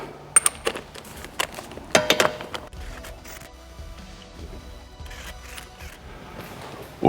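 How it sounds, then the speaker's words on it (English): Lug nuts placed onto a brake disc rotor: a few sharp metallic clinks and jingles early on, then quieter handling noise, close and alone. "I need to put some of these lug nuts on just to stop the disc moving around while I'm pulling on it."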